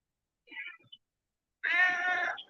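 A house cat gives a faint short chirp, then after a pause a clearer, drawn-out meow of about a second, close by in a quiet room.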